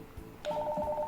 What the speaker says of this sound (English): now it's switched on, and then this one is a ringtone